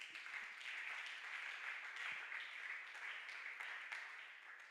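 Church congregation clapping and cheering for Jesus during a service: a continuous, even crowd applause heard from a moderate distance, sustained for several seconds without talk over it.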